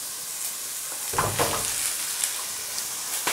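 Sliced carrots, spring onions and leek sweating in oil in a pan: a close, steady sizzle with a few stirring scrapes and crackles, no talking.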